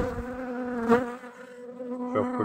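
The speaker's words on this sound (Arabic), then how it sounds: "هنا راه كاين بعض النحلات سرقة" Robber honey bees buzzing around a weak hive, a steady close droning hum with a brief louder swell as a bee passes near.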